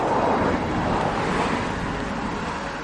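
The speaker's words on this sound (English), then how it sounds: "there are traffic noises that I will have to deal with" Steady roadway traffic noise in a suburban neighbourhood, a broad continuous wash of passing cars heard from a sidewalk, fairly loud and unbroken throughout, with no talking.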